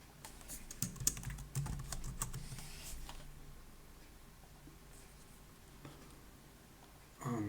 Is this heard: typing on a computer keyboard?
yes